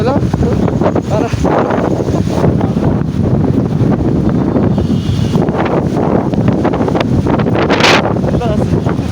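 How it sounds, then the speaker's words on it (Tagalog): Strong, continuous habagat monsoon wind roaring and buffeting the microphone throughout, loud and rumbling, with voices faintly mixed in, near Okada Manila. "Wow, lakas ang hangin."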